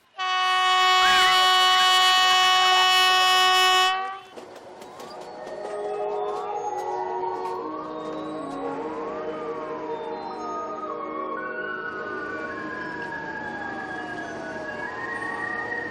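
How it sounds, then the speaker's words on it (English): Train moving through the pine-covered Bhir Gorge, opening with a loud sustained horn blast, then steady rolling rumble with long gliding squeals from the wheels on curves, heard close and alone. "the train threads its way among the pines of the Bhir Gorge"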